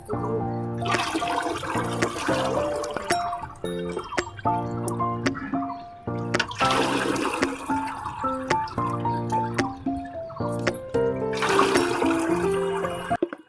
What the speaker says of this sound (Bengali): তো আস্তে আস্তে মগ দিয়ে ঢেলে নেওয়ার পর লাস্টেরটুকু এভাবে একসাথে ঢেলে নিলাম।